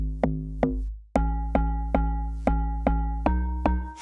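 Amapiano bass, log drum and harmonies routed through a bass bus thump out in a steady run of deep, booming hits, each note decaying quickly before the next strikes, with sustained tones layered on top.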